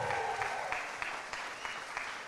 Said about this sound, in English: let's give Jose a big round of applause